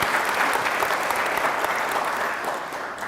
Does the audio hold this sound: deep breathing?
no